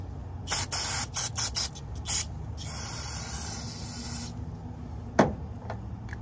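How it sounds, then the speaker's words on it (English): Cleaner spray on a grimy, greasy car part during a limp-mode fix: several short close hissing spray bursts in quick succession, then a longer steady hiss, followed by a sharp knock near the end. "we just gonna spray a little bit of this on here"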